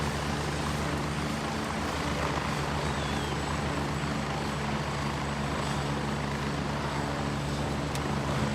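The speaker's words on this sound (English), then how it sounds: "This will be my chopper." A helicopter in the video game Gray Zone Warfare holds a loud, steady rotor and turbine drone throughout, close and unbroken, with no speech.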